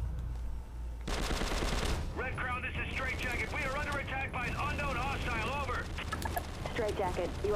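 Rapid automatic gunfire from a machine gun in the video game Prototype 2, a dense sustained burst of shots under game noise and overlapping speech.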